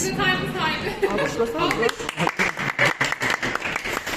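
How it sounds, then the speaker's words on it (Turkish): Applause breaks out at a breakfast gathering in a pizza restaurant in Ankara. It starts under a few excited voices, then turns into brisk, loud clapping from a small group nearby. "ve Yavuz Bey'e kocaman alkış."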